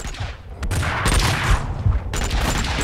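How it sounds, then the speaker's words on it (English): Pistol fire from dual Beretta handguns in Max Payne 2, a dense burst of overlapping shots and booms with a short lull in the middle, loud and close with no talking. "I'm going to use the pistol for now."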